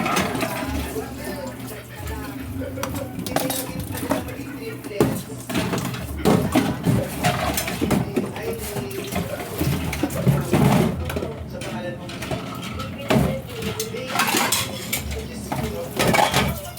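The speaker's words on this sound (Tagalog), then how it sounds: "Tapos ng hugas ng plato" Dishes, plates and cutlery being washed at a sink, with frequent clinks and clatters of crockery and utensils against running water, close and busy, with occasional talking in between.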